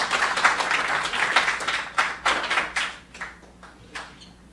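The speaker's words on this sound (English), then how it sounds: "give him a big round of applause" An audience claps in a lecture hall, starting as dense applause and thinning into scattered, separate claps that fade away over a few seconds.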